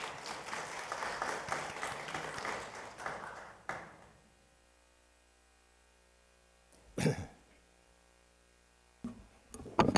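Audience applause at a Korean academic publishing forum held at the National Assembly, a dense burst of clapping for the first few seconds that cuts off into near silence, followed by a couple of short louder bumps and taps.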